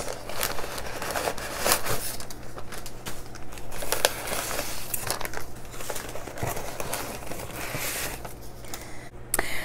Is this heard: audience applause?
no